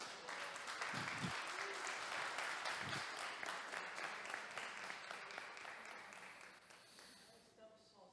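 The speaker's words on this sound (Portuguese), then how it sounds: "Pode aplaudir Jesus." Church congregation applauding, a dense sustained clatter of many hands that gradually thins toward the end, with a voice briefly heard over it.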